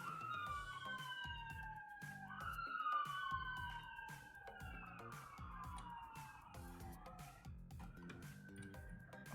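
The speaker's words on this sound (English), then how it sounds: "Oh, sirens." Sirens wail and sweep up and down, several overlapping, over a steady rhythmic beat with music playing along.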